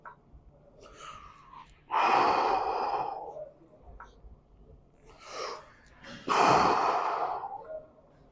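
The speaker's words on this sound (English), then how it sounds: "Pardon the heavy breathing too." Two long, heavy breaths stand out, each a loud rushing exhale, with softer breathing and small mouth sounds in between, close to the mic.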